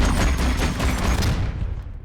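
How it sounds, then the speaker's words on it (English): Film sound effect of the massive cannon on the armored amp suit in Avatar: a dense, thunderous burst of rapid heavy blasts that rumbles on, then decays into a fading tail, with no talk. "the amp suit has to sound like the most massive cannon you ever heard"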